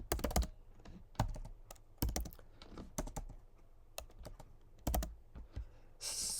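Code being typed on a computer keyboard, a close, brisk run of clattering keystrokes in uneven bursts, with a soft hiss at the very end and no talking.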